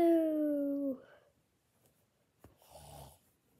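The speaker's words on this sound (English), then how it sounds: "Somebody snores so loud." Loud snoring from a sleeper, one long drawn-out rasping snore followed by a pause and a second, softer snorting breath near the end, heard alone without talk.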